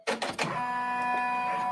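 A multi-needle embroidery machine starts stitching dark gray thread: a few sharp mechanical clicks, then a steady, loud, humming whir with a bright tonal whine that runs on without talk.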